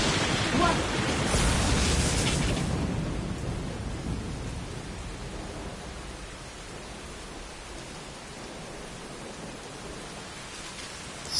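Thunder rumbles loudly over steady rain in the AI: The Somnium Files video game, the crash swelling early, then fading into a continuous hiss of rainfall.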